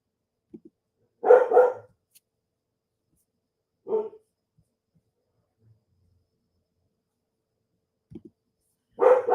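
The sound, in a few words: dog barking, scared of sounds outside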